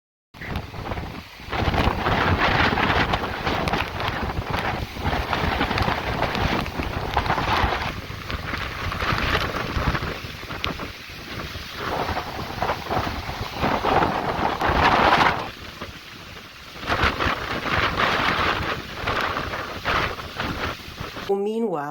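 Heavy rain falls outside a cabin while the listener stands under its overhang. Dense, continuous wash of rain and gusty wind noise runs throughout and swells and dips, loud and close.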